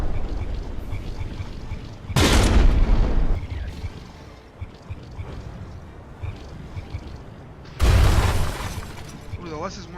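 Heavy guns detonate in a From The Depths naval battle between frigates, two loud booming bursts with crackling debris several seconds apart, while a commentator talks throughout.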